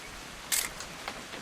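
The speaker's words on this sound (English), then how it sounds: "Just want to get a shot of you, Dawn, then we can take off" A short camera shutter click from the video game What Remains of Edith Finch, a single crisp snap followed by a couple of faint mechanical ticks, quiet and close with no talking.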